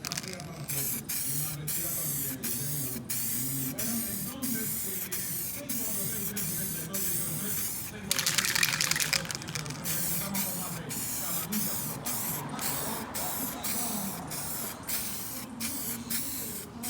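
Aerosol can spraying OEM-matched paint onto a turbo Honda Civic in a chilly setting, with a series of short hissing bursts and one longer spray, close up, under quiet talking.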